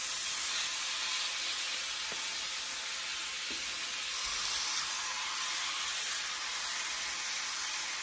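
Thin chicken pieces seasoned with salt, pepper and a little ground garlic start cooking in a pan, giving a steady, broad frying sizzle that holds evenly throughout with no talking.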